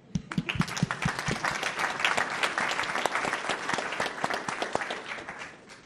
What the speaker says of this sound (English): Honestly, round of applause for that.